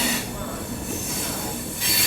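A train pulling out of Varanasi railway station, heard from on board as a loud, continuous rumble of rolling wheels with a hissing screech of wheels on rail over it, swelling again near the end, with no voices.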